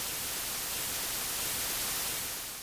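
Steady, even broadband static hiss, the cosmic microwave background radio noise first detected by Penzias and Wilson, continuous and unchanging for the whole stretch with no voices.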